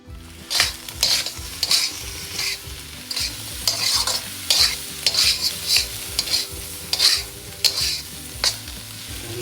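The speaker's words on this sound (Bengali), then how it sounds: "এর মধ্যে অ্যাড করে দিছে যে চিকেনটা ফ্রাই করে রাখছিলাম" Chicken fried rice stir-fried in a pan, with fried chicken pieces tossed among carrots, gives a steady close sizzle broken by repeated rhythmic scraping strokes of the stirring spatula.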